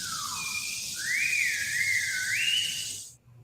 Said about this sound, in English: What does the whistle sound like?